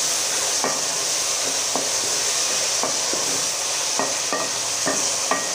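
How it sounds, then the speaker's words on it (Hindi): Moongre fried with soft tomatoes in a pan of mixed vegetables: a loud, constant sizzle punctuated by regular wooden clicks and taps of a spatula stirring against the pan. "ये देखिए मूंगरे हमारे फ्राई हो रहे हैं।"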